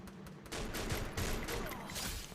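Dense bursts of gunfire in the mobile shooter game Free Fire, with rapid overlapping shots at loud close range and no talking.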